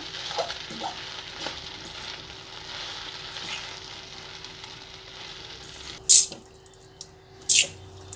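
Schezwan noodles being stir-fried and tossed in a pan, a steady sizzle with intermittent stirring scrapes, followed by two sharp bright clanks near the end.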